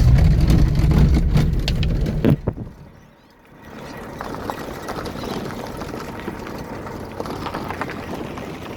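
Engine of a 1974 Honda Civic while driving on country roads, a steady close drone and road rumble that briefly dips around a gear change, then returns and continues evenly.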